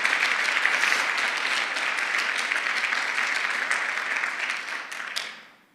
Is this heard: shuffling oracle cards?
no